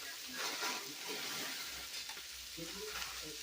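Frozen peas hit a hot pan and set off a bright, crackling sizzle, with stirring scrapes and spattering pops up close, fairly quiet and steady over a few seconds.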